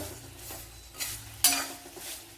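Papadam pieces fry in a generous amount of oil in a pan, giving a quiet, low sizzle broken by a few brief scraping stirs, with one sharper clatter near the middle.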